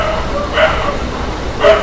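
Two short barks from a dog outside at night, spaced about a second apart and heard faintly in the background beneath a low steady hum.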